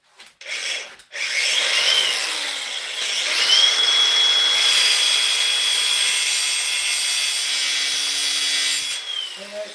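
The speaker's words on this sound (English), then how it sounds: "But that's what the grinder is for." Power grinder running steadily against a rough wood edge, a continuous harsh abrasive whine lasting several seconds after a brief start, close and loud with no talking.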